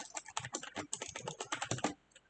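Rapid typing on a computer keyboard during a programming contest, a close, fast run of crisp key clicks for about two seconds before stopping.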